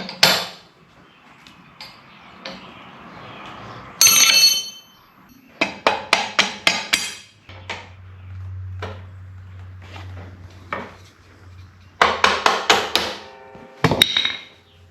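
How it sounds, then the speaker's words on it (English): Metal tool clanks and knocks while a bolt is tightened during PTO reassembly on a Farmall H tractor, coming in scattered close bursts with quiet gaps and a brief low whir midway. "I'll install this bolt, tighten it up."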